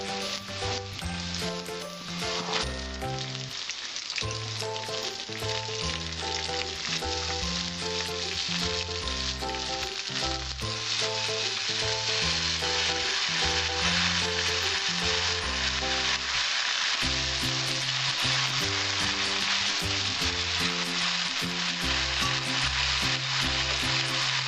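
Vegetables hissing in hot oil in a pan for Bengali-style pabda fish shukto, a continuous sizzle under background music with a steady tune throughout.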